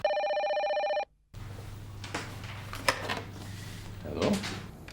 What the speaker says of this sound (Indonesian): Pak, telepon, Pak.